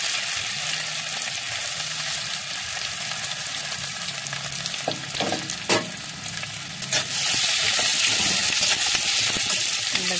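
Chopped ginger sizzles loudly in hot oil with cumin and fennel seeds, a steady close frying hiss with a few sharp stirring clicks in the middle, then the sizzle swells louder toward the end.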